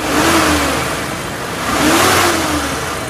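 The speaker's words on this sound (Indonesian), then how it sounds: "ini kondisi mesin kita Blayer juga, kondisinya aman, tidak ada ciri mesin bermasalah atau suara-suara yang janggal" The 1500 cc injection engine of a 2016 Suzuki Carry Futura pickup revs up close, rising in two blips with an idle between them, with no talk over it.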